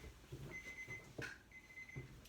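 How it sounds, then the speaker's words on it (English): A kitchen timer goes off in a home with faint repeated high-pitched beeps, quiet and distant, in a few short pulses. "There's my timer."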